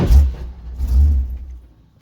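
A car engine revs up twice close by, each swell rising then falling back, with no talk over it.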